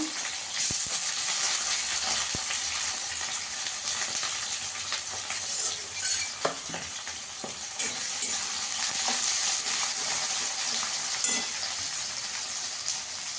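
Chopped onions with whole cumin frying in hot oil in a pan while cooking chicken curry, a continuous moderate sizzle with occasional stirring clatters and no talk.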